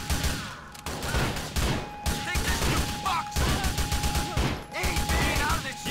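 Rapid bursts of M4 rifle gunfire in the video game GTA: The Lost and Damned crackle in quick succession, loud and close, with short pauses between volleys and a voice talking underneath.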